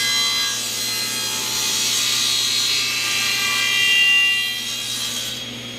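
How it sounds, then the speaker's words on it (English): A power saw cuts a 3/8 inch tenon in a 3/4 inch thick wooden board, with a steady high whine and a rasping cut that rises and fades over several seconds. "So now I'm going to cut a 3/8 tenon in a 3/4 inch thick board. So I just turn on the saw."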